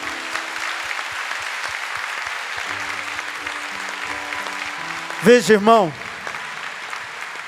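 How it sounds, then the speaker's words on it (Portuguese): A church congregation applauds steadily after a healing testimony at a prayer gathering, the clapping running under a preacher's speech and a few louder voiced exclamations near the end. "Vamos aplaudi-lo?"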